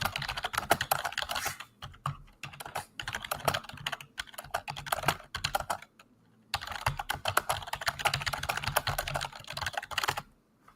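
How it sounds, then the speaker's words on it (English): Rapid typing on a computer keyboard in a quiet room, fairly close and steady, with irregular bursts of keystrokes broken by a couple of short pauses. "Can you hear me typing?"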